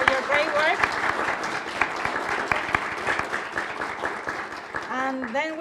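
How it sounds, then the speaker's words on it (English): An audience applauds student work at a community presentation on gentrification, with a steady patter of claps running throughout and voices and cheers mixed in, swelling again near the end. "Jennifer, Skylar, Justina, and Feria, if you can stand up and just like get an applause for your great work"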